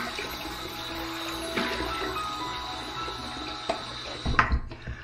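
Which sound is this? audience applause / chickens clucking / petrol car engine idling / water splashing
water splashing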